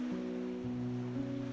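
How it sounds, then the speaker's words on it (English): Wind and ocean waves at Fort Amherst Lighthouse on the Atlantic Canada coast, a continuous rushing wash with a low steady hum underneath, heard alone and at an even level throughout. "Here, there is little of the city's noise, only the sound of wind and waves."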